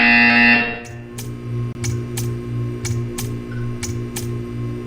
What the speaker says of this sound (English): You will hear a buzzer. When you hear the buzzer, stare at the art.